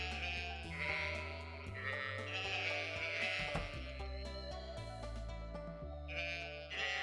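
Sheep in a video game bleat over and over in drawn-out wavering calls, close and clear, layered over steady game music.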